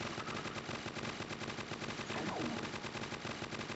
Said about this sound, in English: Anyone else notice my gun just firing like hell?